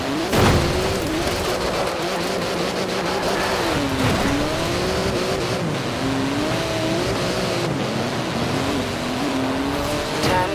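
Street-legal racing car engine in Forza Horizon 4, loud and close, droning steadily with repeated rising and falling revs through gear changes, occasional tyre squeal, continuous throughout with no talking.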